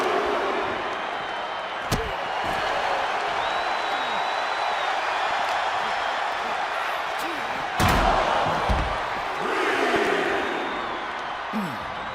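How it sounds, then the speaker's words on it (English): A wrestling arena crowd in Paris during an opening match keeps up a dense, steady roar of cheering, with sharp slams from the ring cutting through and occasional swells of louder noise. "This crowd is hot and heavy here tonight"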